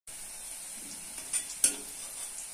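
Cabbage, gram flour and coriander fritters fry over a low flame in oil, giving a soft continuous sizzle with a couple of brief stirring clinks, quiet and without talk.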